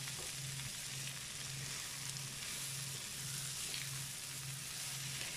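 Rice and vegetables sizzle steadily in a pan, a quiet, continuous hiss and crackle with a faint low hum pulsing in regular bursts underneath; no talking.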